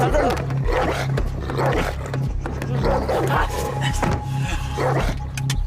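A large dog barks and growls deeply and repeatedly, loud and close, over a constant rumbling background.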